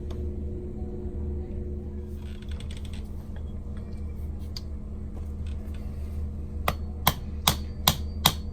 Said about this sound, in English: I'm going to hit it with a hammer and move it down the mandrel